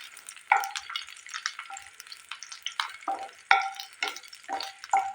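Three dried chillies, a piece of cinnamon, two cardamom pods and a few peppercorns frying in mustard oil, with close, crackling sizzles that rise in bursts as a spatula stirs the pan again and again.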